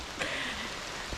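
Heavy rain pours down steadily during a training run near Lake Tahoe, a dense, constant hiss of drops striking surfaces nearby, with no voices over it.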